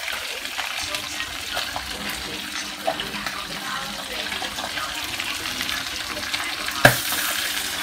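Field rats with their tails still on deep-frying in hot oil, a constant loud bubbling sizzle with scattered pops and one sharp crackle near the end.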